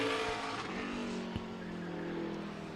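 The 11 car, driven by Nick Gibson, races around Meridian Speedway in Idaho. Its engine drones faint and distant, with the roar of other race cars at the track blending in.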